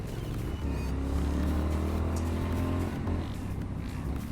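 A Triumph Street Scrambler motorcycle rides steadily, its engine droning loud and continuous with a slight dip in pitch near the end.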